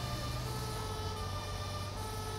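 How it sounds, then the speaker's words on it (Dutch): A fire truck siren in the GTA 5 video game, heard during fire department play, blares as a loud, continuous tonal wail that holds steady without pauses and has no voices over it. "En ik vind deze sirene ook wel vet."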